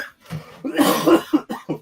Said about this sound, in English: You're coughing up a lung over there.